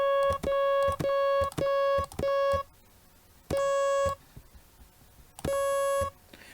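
Stacked sine wave harmonics in the FL Studio Citrus synth play as steady, pure electronic tones. A run of short repeated notes is followed by longer sustained notes with growing overtones, loud and clean with no talk.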